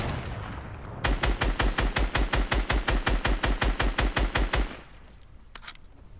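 Sustained burst of rapid minigun fire in a shooter video game, about twenty evenly spaced loud shots in a steady stream lasting several seconds, then stopping abruptly into quiet background.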